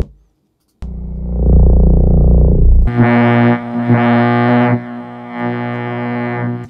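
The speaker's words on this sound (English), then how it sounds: "an AM radio fluorescent light bulb that's been pitched down to sound like a force field" An AM radio fluorescent light bulb sound, pitched down into a force-field effect, hums loudly with distorted, buzzing tones that start abruptly after a brief silence and pulse through several swells.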